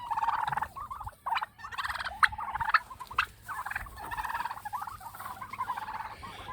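Turkeys of mixed breeds, including chocolate, blue slate and bourbon red, gobble in close, repeated rattling bursts on a farm. The calls overlap one another at fairly loud volume.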